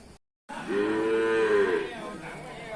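A cow at a Thai livestock market lets out one long, loud, close moo after a brief silence, against a low background murmur.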